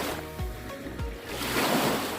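Ocean surf at Meow Beach washes in steadily and close, a constant rushing wash mixed with wind buffeting the microphone, with no voices.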